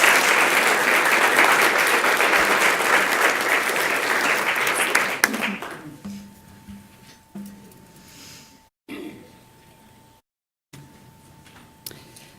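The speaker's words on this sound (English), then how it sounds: "How about one more round of applause for these fine young people?" Sustained applause from an audience at a school governing board meeting, a dense loud clapping for about five seconds that fades out, followed by quiet room tone with a faint hum and brief dropouts.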